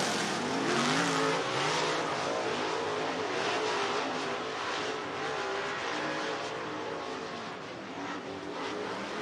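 Sprint cars racing at Southern Oregon Speedway in a Western Sprint Tour event, engines roaring continuously and loudly as several cars pass close together in a tight pack, no talk.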